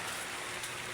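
Steady rain hisses in a dense, even wash of patter, close and continuous, with no voices.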